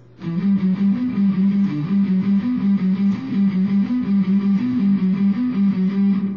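An electric guitar plays a chugging, palm-muted riff with a tight, dampened attack and steady low notes repeating in a driving rhythm.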